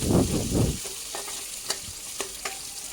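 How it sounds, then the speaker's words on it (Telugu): Onions frying with cluster beans in a pan are stirred, giving a steady bright sizzle with a few sharp scrapes of the utensil and some low rumbling handling at the start. "ఆనియన్ కూడా ఒకసారి మిక్స్ చేయాలి బాగా."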